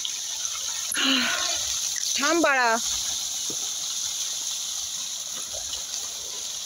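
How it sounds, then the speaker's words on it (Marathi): Water gushes strongly out of a pipe in a farm field with a steady hissing rush. Voices talk briefly over it near the start, and the flow continues evenly to the end. "किती पाणी मारतंय"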